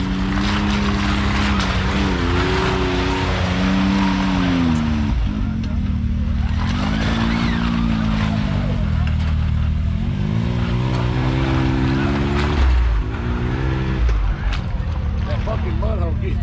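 Off-road vehicle engine revving hard at full throttle on an off-road park trail, a loud sustained roar with rising and falling pitch sweeps, with people talking over it throughout.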